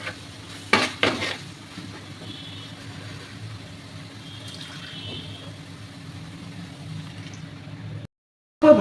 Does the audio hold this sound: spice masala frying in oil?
yes